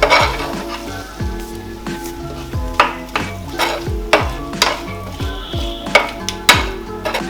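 A spice paste with chopped bilimbi is stirred and mixed in a pan, a spoon scraping and clinking in a steady rhythm against soft sizzling, close up with no voices.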